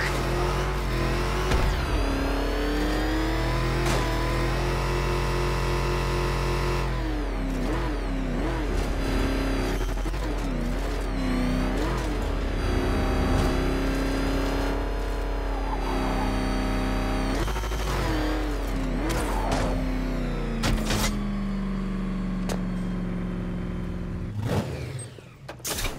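A car in the Batman: Arkham Knight video game revs and drives off, its engine loud and steady with changing pitch, mixed with game music and effects over about twenty-six seconds.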